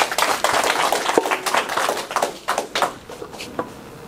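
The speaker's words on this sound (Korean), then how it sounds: "우리 김세훈 박사님 뜨거운 박수로 소개하도록 하겠습니다" Scattered, light clapping from a small audience at a climate-adaptation lecture as a speaker is welcomed, with individual claps audible and the applause thinning out toward the end.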